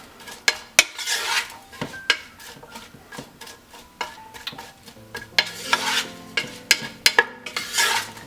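Onions and curry leaves sauté in a pan for a shrimp curry, a spatula scraping and knocking against the metal in sharp irregular clacks over a light, close sizzle.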